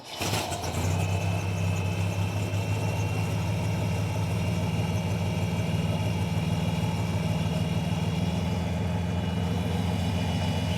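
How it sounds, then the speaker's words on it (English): A Chevy C10 truck's inline-six engine idles steadily and loudly after a brief start, its low rumble holding even throughout with no talking. "she's got the inline 6, so that motor sounds great"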